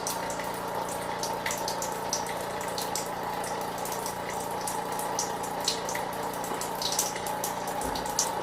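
Water streams steadily into a tank during a magic trick, a continuous rushing flow like a running tap. It is fairly loud and even throughout, with no voices.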